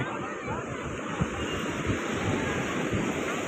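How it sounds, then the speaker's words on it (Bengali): Rough sea waves roll onto a beach at night, a steady loud wash of surf with gusting wind buffeting the microphone throughout. "এই দেখো সমুদ্র উত্তালটা দেখো, অন্ধকারে দেখা যাচ্ছে না, তাই জলটা অনেকটা আসছে"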